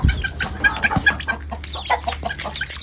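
Country chickens and chicks cluck and chatter close by at feeding, several birds calling over one another in short, busy bursts.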